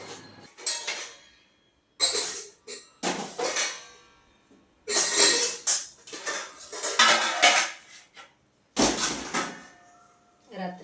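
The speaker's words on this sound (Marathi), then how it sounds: "आता पहिले भांडे मांडून घेते" Kitchen pots and utensils being set out in a home kitchen in the morning: repeated metallic clanks and clinks of vessels and cutlery in bursts with short pauses, close and loud.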